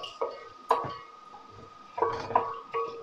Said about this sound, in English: I'm going to add the onions onto the pot